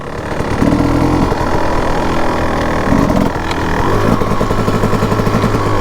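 A 2004 Kawasaki KX 250 motorcycle engine running close by, a loud, buzzing two-stroke note that idles, rises in short revs and settles again, with no talking.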